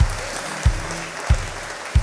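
Steady crowd clapping fills the air inside a church at a live concert, with regular heavy thumps recurring roughly every two-thirds of a second beneath the applause.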